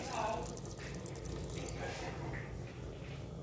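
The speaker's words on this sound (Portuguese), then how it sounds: "agora eu vou acrescentar aqui um pouco d'água." Water pours into a pan for chicken stroganoff, a steady soft splashing and trickling stream heard close up, with a voice faintly present beneath it.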